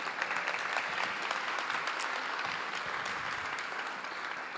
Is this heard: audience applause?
yes